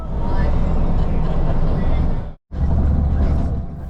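A Romanian Malaxa railcar running, a loud steady rumble of wheels and engine with heavy low-end roar, briefly cut to silence midway before resuming just as loud.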